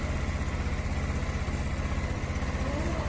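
A Yamaha Mio Soul scooter engine idling nearby, a steady, even low putter with a smooth, unbroken rhythm and no knocks.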